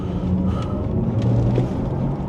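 Porsche Taycan Turbo electric car accelerating hard with its two-speed gearbox shifting, a steady loud low rumble of road and drivetrain noise with a faint rising whine, heard from inside the cabin.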